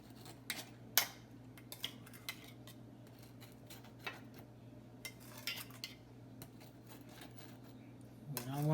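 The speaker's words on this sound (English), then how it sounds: "about to take my spoon and just spoon some over my cake so we can go in those holes" A spoon taps and clinks against a bowl while lemon glaze is spooned over a Bundt cake. The scattered light clicks are close but quiet over a low room hum.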